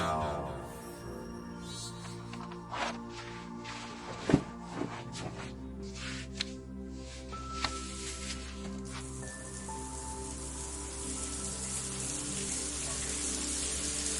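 A running shower hisses steadily, with water spattering and dripping onto surfaces, punctuated by a few sharp knocks and splashes, close and fairly quiet.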